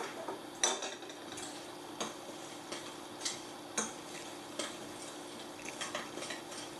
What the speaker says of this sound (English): you're going to stir all that together.